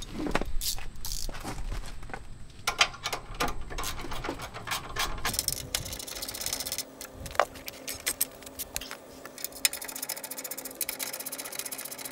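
Hand tightening flange nuts with a 15 mm socket while installing shocks on a 2005–2023 Toyota Tacoma, a close run of clicking, ratcheting metallic ticks and clanks, denser early and sparser later.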